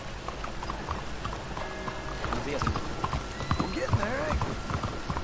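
Horses clop along in the rain in the Red Dead Redemption 2 video game, steady hoofbeats under patter of rain with a brief whinny, while someone speaks over them.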